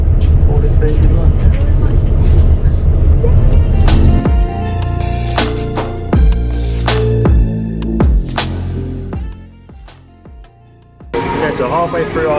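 Interior of a nearly empty bus on a trip in Cambodia, with a low engine throb and rumble that steps through gear changes, punctuated by a few sharp clunks and hisses, steady and close.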